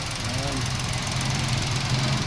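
A Suzuki Hustler's small car engine idles in a low, even hum close by, steady throughout, with a brief faint sound over it early on.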